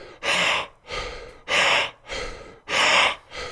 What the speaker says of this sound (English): basically I'm doing 4 rounds of the breathing